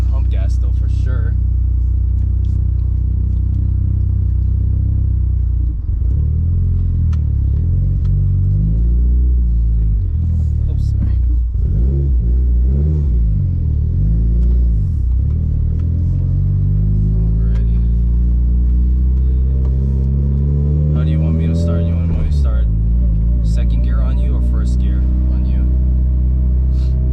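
A Mitsubishi Evo 8 running E85 fuel accelerates hard in second gear, its engine rumbling loudly with pitch sweeping up and down through gear changes, heard from inside with people talking over it.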